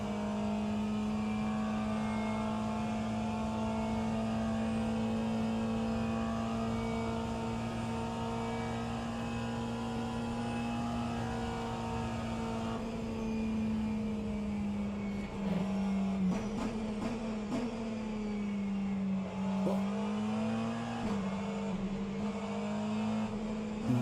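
Race cars in the rFactor 2 sim racing game, during a 24-hour virtual endurance race with an Aston among the field, hold a steady loud engine drone that shifts pitch slightly as they run in the slipstream, with no talk.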